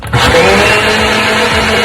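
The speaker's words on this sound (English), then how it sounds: "the blender's kind of loud" A countertop blender whirs loudly as it mixes a protein shake. After a brief click at the start, the motor runs as one constant, close, high-pitched whine.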